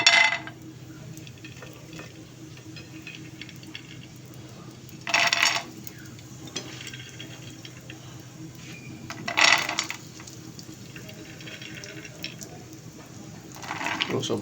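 Peanuts roasting in ghee in a pan, with periodic bursts of scraping and rattling from a spatula or spoon stirring them, separated by quieter stretches of low sizzle.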